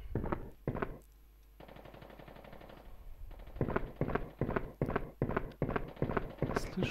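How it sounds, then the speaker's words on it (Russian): Gunfire in Resident Evil: Survivor, a few sharp shots early, then a rapid burst, followed by a regular series of heavy, evenly spaced shots, moderately loud over faint game ambience. "Я слышу выстрелы."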